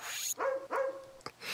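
Cartoonish dog barks from the Wii game Barbie Groom and Glam Pups, three short yappy barks in quick succession with brief gaps, clear and fairly close, no talking.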